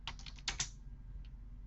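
Quick keystrokes on a computer keyboard, a short cluster of taps followed by one faint lone click, close and quiet with no talk.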